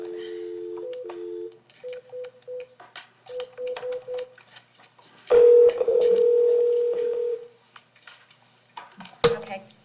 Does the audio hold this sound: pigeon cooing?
no